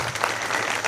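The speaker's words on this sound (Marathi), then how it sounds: "एकदा टाळ्या झाल्या पाहिजे" Applause from an audience at a women's community gathering, honouring the CC madam of the women's ward; brief steady clapping from a crowd, dense and fairly loud.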